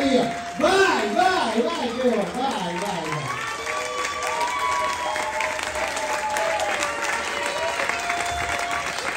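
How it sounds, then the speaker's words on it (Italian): Audience applause with some cheering for Italian professional-category dance champions at a dance school recital, a dense clapping wash under a voice speaking loudly over it at the start, then steady applause continuing to the end. "ragazzi prendetelo voi l'applauso"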